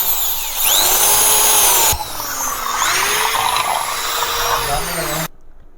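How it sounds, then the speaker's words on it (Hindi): An electric drill bores holes in the plastic cap of a Crompton Silent Pro ceiling fan, with a loud, sustained whine that changes pitch as the bit bites, then stops abruptly. "तो चलो यहाँ पर ड्रिल लेते हैं और इसको होल कर लेते हैं।"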